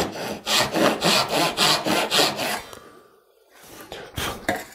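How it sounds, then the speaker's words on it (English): Hand saw cutting into wood for a dovetail front stretcher on a side table, a steady run of rhythmic back-and-forth strokes up close, then a short pause and a few final strokes. "I'm going to do the exact same thing I had with the saw"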